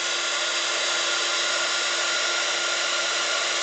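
An embossing heat gun blows steadily, a constant loud whooshing hiss with no pauses from start to finish.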